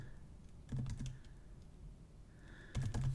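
Keys clatter on a computer keyboard in two short bursts of quick, close typing separated by a quiet pause.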